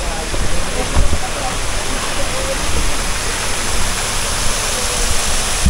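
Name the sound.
water flowing from a natural spring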